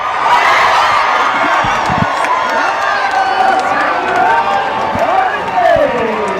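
Loud crowd cheering and shouting fills a softball stadium after a Florida State home run against NC State in NCAA play, a steady roar with whoops rising and falling throughout.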